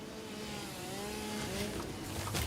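A chainsaw in a video game cutting down trees, its engine droning steadily and close with a slightly rising, revving pitch throughout.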